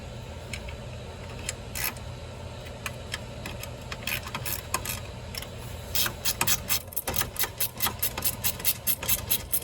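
Ratcheting tool work removing grille brackets and the radiator support on a car: rapid metallic ratchet clicks building into a fast, steady run near the end, close over a low background rumble.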